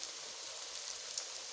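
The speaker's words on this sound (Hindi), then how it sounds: "बारिश हो रही है" Steady rain falls as a continuous, bright hiss during a rainy spell outside a home kitchen where potato pakoras are being fried, even and unbroken throughout with no voices.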